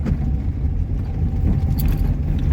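A second-hand Tata Nano car accelerating in third gear, heard from inside the cabin as a steady, loud, low engine rumble with no talking.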